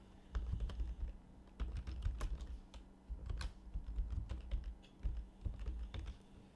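An email address is typed on a computer keyboard during a trading panel software installation. Close, quiet key clicks come in quick bursts separated by short pauses.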